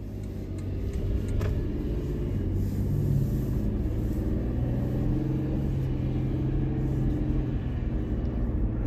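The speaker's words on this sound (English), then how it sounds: "let's go ahead and take this 2022 Toyota Tundra SR5 Double Cab out on the road for a quick test drive" A 2022 Toyota Tundra SR5 Double Cab pickup cruises on the road in eco mode, its engine and tyre rumble forming a steady, continuous low drone heard from inside the cab with no talking.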